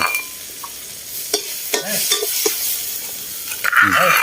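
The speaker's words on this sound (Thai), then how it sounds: "ภรรยาพาผัดกะเพราครับ" Fresh beef stir-fried with holy basil in a hot pan outdoors in the evening, a loud continuous sizzle broken by scraping spatula strokes and metal clatter, with brief voices in the background.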